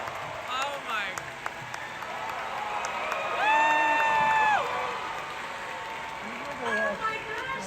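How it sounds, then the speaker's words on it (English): Convention crowd at Star Wars Celebration 2022 applauding and cheering for Hayden Christensen and Ewan McGregor, a steady wash of clapping with a brief loud cheer swelling in the middle, heard from within the audience. "Hayden Christensen and Ewan McGregor came onto stage and the crowd went wild"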